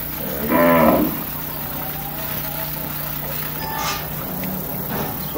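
A young bull lets out a single short, loud moo near the start, followed by quieter farm ambience with a low engine hum and a faint second call further off.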